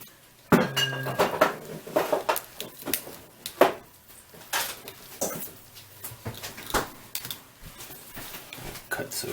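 A sharp knife cuts through cactus cuttings, giving a run of irregular close clicks, taps and light knocks of the blade against a hard surface.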